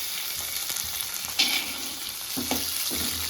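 Something frying in a pan before paneer is added, while making crispy guntapoganalu with street-style chutney; a steady close sizzle with a few louder stir scrapes, and no voices.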